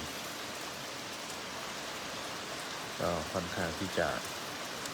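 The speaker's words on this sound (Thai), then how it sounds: "วันนี้ จะมีฝนตกโปรยปลายลงมา" Steady rain falls in the grounds of a Buddhist temple in London, a dense, even hiss throughout, with someone speaking briefly near the end over the patter.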